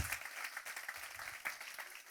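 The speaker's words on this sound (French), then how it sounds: "Est-ce qu'on peut applaudir?" Faint, sparse clapping from a church congregation welcoming first-time visitors, thin and uneven with individual claps standing out, quiet and somewhat distant.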